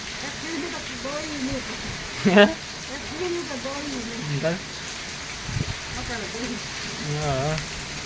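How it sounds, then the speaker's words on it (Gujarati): Steady heavy rain hiss runs throughout while people talk over it, with a few brief louder knocks in the middle. "હજી જો વરસાદ ચાલુ થયો કન્ટિન્યુ"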